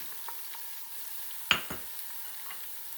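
A spoon stirring spices roasting in a pan for chana pulao, with a faint steady sizzle broken by one sharp scrape and a few light taps, close and quiet.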